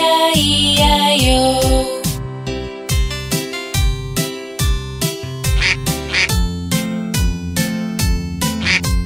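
Duck quacks set to a bright, bouncy children's farm song, with repeated rhythmic quacks riding loud over the music.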